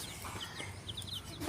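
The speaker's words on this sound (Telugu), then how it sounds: "కోడి పిల్లలు" Many small colourful chicks peeping, with soft high chirps scattered close by in quick irregular bursts over a quiet background.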